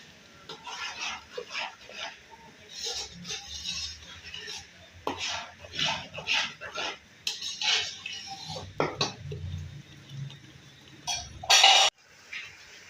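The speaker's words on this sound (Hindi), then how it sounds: "अब इसकी मसाले की अच्छी तरह बुनाई करनी है।" Desi chicken and spices sauté in a pot as a spoon scrapes and stirs with repeated clattering knocks against the metal, under occasional speech, ending with a brief sharp hiss.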